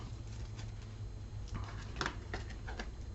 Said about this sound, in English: I'm going to shuffle and deal you an Angel Oracle card.